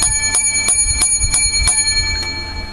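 Seven bell strikes ring out one after another at a steady, slightly uneven pace, each a bright metallic ding with a lingering tone, above a constant low hum.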